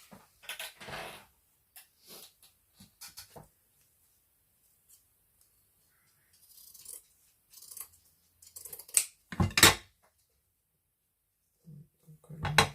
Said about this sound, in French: Je vais couper ce bout-là en deux.